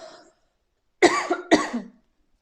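A woman coughs twice in quick succession, close and fairly loud, after a brief trailing word, with silence in between and afterward.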